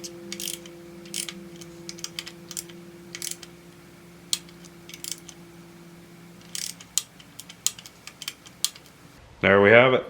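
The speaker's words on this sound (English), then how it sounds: "Get our bolts tightened down, snugged up a little bit" A ratcheting wrench snugs down bolts on an LS engine intake, heard as close bursts of quick clicking spread across the clip between quiet gaps, with a short louder clatter at the end.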